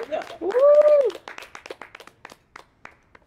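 An audience at a recorded conversation gives a short round of applause for a guest. It opens with a brief whistle-like tone, then scattered claps that thin out and fade within a few seconds.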